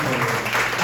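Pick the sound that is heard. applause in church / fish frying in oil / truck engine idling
applause in church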